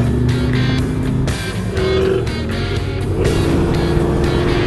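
Ford Boss 302 Mustang V8 with a Hurst gearbox, loud and close from on board while driving, engine note rising and falling across gear changes with no talk.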